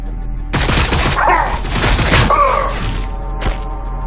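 Sustained battlefield gunfire in Warhammer 40,000: Battlesector, dense bursts of shots and thuds running continuously for several seconds at close range, with voice-like tones briefly rising through the din.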